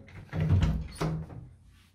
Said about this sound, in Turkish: Hadi bir açalım kapıyı bakalım.